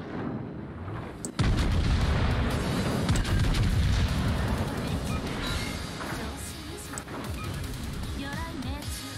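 A cruiser's secondary guns fire in a naval video game, giving a dense run of booming shots and crashes that starts abruptly and continues loudly throughout.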